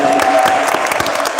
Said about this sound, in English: This dude deserves an applause